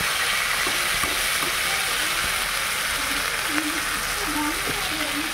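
Ginger, garlic and onion fry in a pan with a steady, close sizzle that runs unbroken throughout, with a few faint clinks from a stirring utensil on top.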